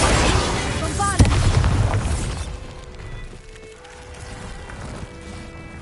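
A Bombarda spell bursts in Hogwarts Legacy with a loud booming blast, followed by a crackling, rumbling tail that fades over several seconds.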